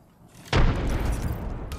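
A frag grenade explosion in the battle royale video game Apex Legends: a sudden loud boom after a quiet moment, followed by a rumbling, crackling decay that lasts over a second.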